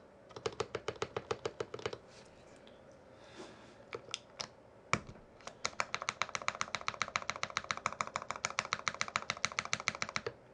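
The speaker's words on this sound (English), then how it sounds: "just tapping on that spacebar right now" Spacebar on a Sirius 60 mechanical keyboard fitted with Butter Cream switches and DSA Alchemy keycaps, tapped in quick close-up clicks that come in steady bursts, briefly pause, then resume in a rapid regular run.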